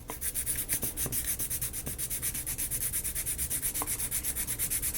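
Sandpaper rubs back and forth across the bottom of a small wooden dollhouse piece in fast, even strokes, a close, rhythmic scratchy rasp repeating steadily with no talk.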